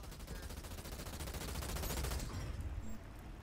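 Dense rapid gunfire crackles nonstop in Halo Wars 2 combat, a fast rattling burst of overlapping shots held at steady moderate loudness before easing off near the end.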